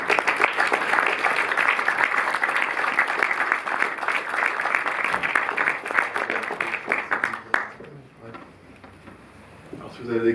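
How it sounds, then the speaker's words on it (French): A cinema audience gives loud, sustained applause that runs for about seven seconds and then breaks off into scattered claps and room noise. "Je vous demande de les applaudir une nouvelle fois"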